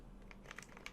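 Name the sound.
typing a URL on a computer keyboard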